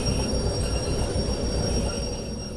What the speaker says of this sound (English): You can hear the cars behind me screeching as we go through this junction box.